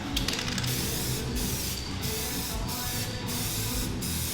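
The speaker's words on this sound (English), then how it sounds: "And so like that spray is basically just to like cut reflection and stuff like that?" Aerosol spray hisses onto car paint to cut its reflection for 3D scanning, sounding as several close, loud bursts separated by brief pauses.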